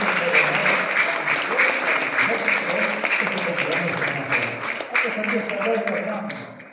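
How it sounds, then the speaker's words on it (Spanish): Young altar servers and their congregation clap together in a church gathering, a bright steady patter of many hands that holds for several seconds with voices and cheering mixed underneath. "Otro nuevo aplauso,"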